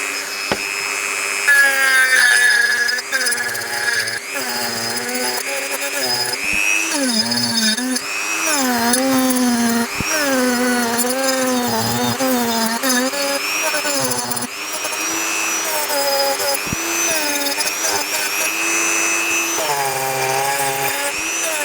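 A Dremel rotary tool scours rust from an old metal part. Its high whine stays continuous and loud, rising and falling in pitch as pressure shifts.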